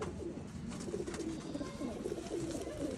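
Soft, low pigeon cooing repeats in gentle rolling phrases over a faint background hum.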